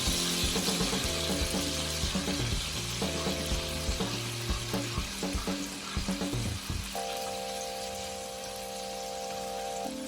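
White wine poured into a hot pan of pan-seared salmon with creamy garlic sauce makes a loud, steady sizzle with stirring and scraping clatter, the frying hiss continuing alone throughout.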